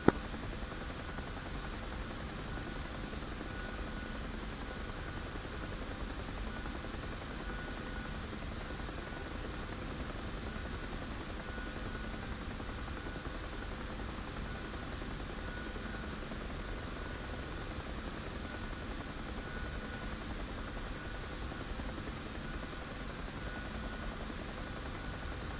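A UH-1 helicopter in the DCS flight simulator, its rotor and turbine producing a continuous, even broadband roar that holds steady from start to finish with no speech over it.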